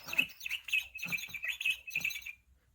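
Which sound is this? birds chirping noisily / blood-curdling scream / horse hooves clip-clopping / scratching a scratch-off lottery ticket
birds chirping noisily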